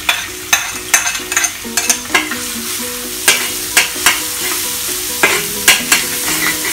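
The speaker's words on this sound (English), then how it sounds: "Now leave some oil back in the wok, we are going to fry the garlic." Garlic frying in oil in a wok, with repeated sharp scraping strokes of a spatula over a steady sizzle, close and fairly loud, no talking.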